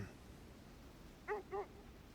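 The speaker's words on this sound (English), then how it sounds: "These dogs are pretty fast." Sled dogs in the game Kona II: Brume give two short, faint yips or whimpers in quick succession over a low steady background.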